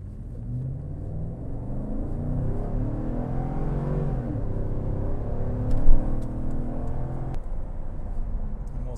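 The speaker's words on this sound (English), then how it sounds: "So I'll go ahead and stop here and do the full throttle run so you get an idea of how this thing" 2012 Cadillac Escalade ESV at full-throttle acceleration, heard as a deep engine rumble that rises in pitch as the SUV gains speed, with road and wind noise building inside the cabin.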